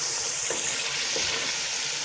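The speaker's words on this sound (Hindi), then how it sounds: "मज़ीद अब इसको अच्छी तरह से भून लेंगे।" Meat frying in a pot with spices and coriander for aloo gosht, a steady close sizzle and hiss with faint stirring scrapes.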